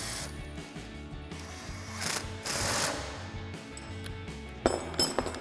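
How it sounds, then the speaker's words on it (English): Bolt on a Jeep Gladiator JT being tightened with a 19mm swivel socket and a 19mm wrench during a SkyJacker 2.5-inch long travel lift install: steady metallic ratcheting and clinking of tool on steel, with a few sharper knocks near the end. "For the bottom, we can grab a 19mm swivel socket and a 19mm wrench,"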